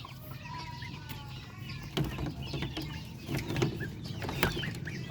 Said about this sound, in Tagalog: dito na lang po tayo sa kulungan manghuhuli ng ating mga darag native chicken.